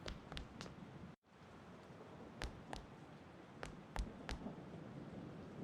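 Soft steady rain ambience from the video game Persona 4 Golden, a quiet even hiss with a few brief sharp clicks scattered through it.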